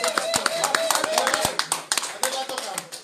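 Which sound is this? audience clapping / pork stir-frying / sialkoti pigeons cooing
audience clapping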